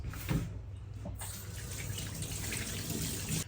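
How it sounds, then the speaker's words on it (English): Tap water runs steadily at close range as raw meat for Nigerian roadside suya is washed under it in a sink, with a continuous splashing hiss for a few seconds and no voices. "it is best to wash under a running water instead of using a bowl"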